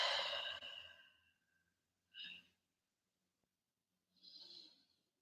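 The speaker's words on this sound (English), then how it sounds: "Take 3 breaths under the left wing" Deep, slow breaths during a seated yoga forward fold, a long audible exhale followed by two shorter airy breaths separated by silence, close and soft.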